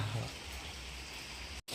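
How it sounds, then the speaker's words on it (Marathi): Heavy rain pours down in a dense Konkan forest during the monsoon, a steady wash of hiss filling the whole stretch before cutting out for an instant near the end. "पावसाला जोर सुटलाय, अगदी भरपूर पाऊस आहे"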